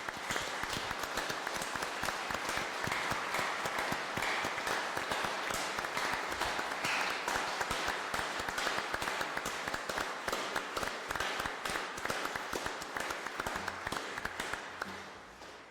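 Sustained audience applause at a closing mass for the Saint Rita novena and feast of roses, dense steady clapping for about fifteen seconds that tapers slightly at the end, with a hint of voices beneath.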